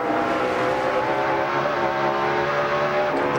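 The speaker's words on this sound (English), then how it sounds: "Listen to a little burst of RPM out of the engine" A NASCAR stock car engine at the 2004 Sharpie 500 holds a steady, loud, continuous drone, with a sustained high-RPM roar and no talk over it.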